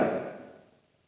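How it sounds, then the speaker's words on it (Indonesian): A single dull hit blooms into a long washy echo that smears and slowly fades out over about a second, sounding muddy and overly reverberant. "terlalu gema, gemanya terlalu gede."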